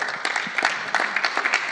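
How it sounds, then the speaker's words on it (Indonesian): A church youth service audience applauds a young man named Matthew, a brief burst of scattered, fairly close claps of moderate loudness with no talk. "Ya, tepuk tangan untuk Matthew"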